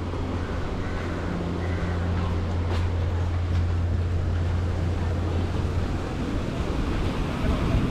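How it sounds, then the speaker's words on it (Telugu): Surf washes steadily onto the shore at Anjuna Beach in Goa, a constant broad rush of waves mixed with buffeting wind noise on the microphone and a low steady hum. "అండ్ యస్, మనం అంజునా బీచ్ దగ్గరికి వచ్చేసాం."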